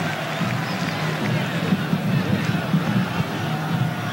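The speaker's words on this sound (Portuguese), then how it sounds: "Torcida esperando mais gols do Santos." Santos fans in the stadium during the 1998 Brazilian championship match against Vasco make a constant, fairly loud din of massed voices, with low rumbling thumps beneath.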